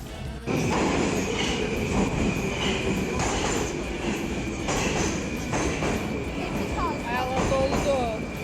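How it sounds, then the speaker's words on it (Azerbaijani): Metro subway train riding: a steady, loud rumble of the car on the rails fills the whole stretch, with a high whine, squealing wheels near the end and brief voices under the noise. "Metro miniş."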